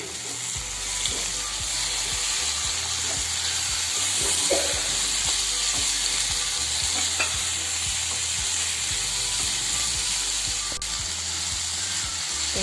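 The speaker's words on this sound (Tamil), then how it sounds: "எண்ணெயிலே கொஞ்சம் நேரம் சிக்கனை நல்லா வதக்கணும்" Chicken pieces sauté in hot oil over softened tomatoes. A continuous loud sizzle runs throughout, broken by frequent clacking spoon stirs and scrapes against the pan, and no one speaks.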